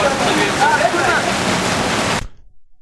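Steady rain pours down at a vintage motorcycle endurance race, a dense continuous wash of water noise with faint voices underneath, cutting off abruptly near the end.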